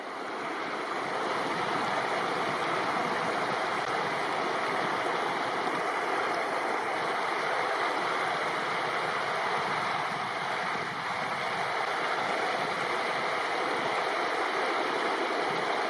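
A mountain river in Banff's Front Ranges rushes and churns at a backpacking crossing point, a steady, broad roar of flowing water close by with no voices.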